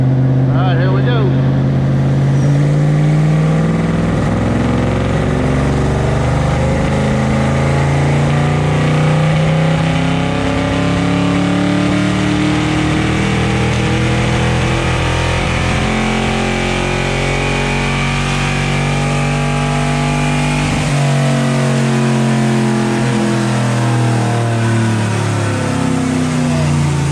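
A car engine with upgraded heads, cam and intake and small restrictive filters roars loud and close through a full dyno pull, its pitch climbing steadily as the engine breaks up near the top before dropping off.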